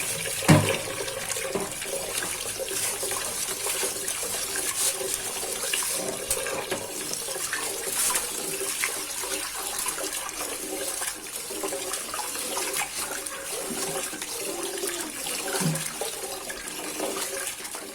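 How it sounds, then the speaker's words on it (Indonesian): Rice being washed in water before cooking, a steady sloshing and splashing with running water, close and continuous, with no talk. "Beras di sini saya cuci sebanyak 2 kali."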